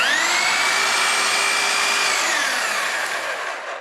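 A Scotts electric hedge trimmer runs with a loud, steady high-pitched whine and buzz, then its pitch drops as it begins winding down near the end.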